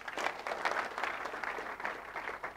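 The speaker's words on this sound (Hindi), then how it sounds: "ताली बजना चाहिए कि नहीं" Audience members at a business presentation clap together in a steady, moderately distant burst of applause.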